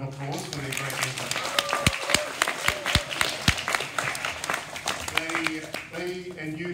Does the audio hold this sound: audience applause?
yes